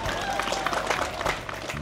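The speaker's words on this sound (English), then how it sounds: "Let's have a big round of applause for all our farming community." A crowd at an outdoor farming community event applauds, a brief burst of many hands clapping with cheering voices and a faint whistle mixed in.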